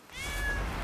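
A cat meows in the video game Blacktail: one drawn-out, rising-then-falling meow, clear and close over a low background rumble, with no talk.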